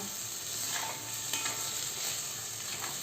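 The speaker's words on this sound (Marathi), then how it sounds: "आता या सगळ्या भाज्या आपण छान तेलामध्ये आणि या मसाल्यामध्ये परतून घेऊया" Mixed vegetables sautéing in oil with spices for street-style usal, a steady close sizzle with occasional stirring scrapes, no voices.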